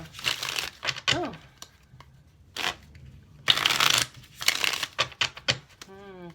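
Rider-Waite tarot cards being shuffled by hand, face down, in repeated quick riffling bursts separated by short pauses, close and crisp, with a brief rising vocal sound near the end.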